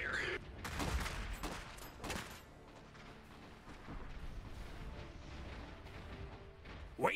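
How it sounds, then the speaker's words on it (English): Gunfire and artillery erupt in a battle in the Iron Harvest strategy game: dense, overlapping bursts and heavy booms roll continuously, with louder blasts near the start and a sharp one at the end. "Incoming fire."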